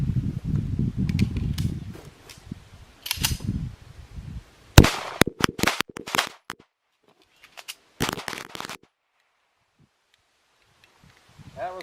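A Tisas BR9 pistol fires rounds during an endurance test. Sharp, loud shots come in quick clusters, then pause, and speech is heard near the start.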